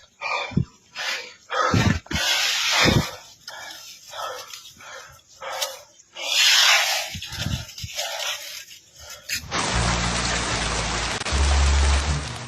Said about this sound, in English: Heavy rain fell today in the afternoon around Ljig,